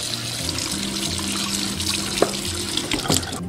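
Water runs steadily from a tap while a piece of pork front leg meat is rinsed clean, a continuous close splashing flow with a few brief clinks of handling.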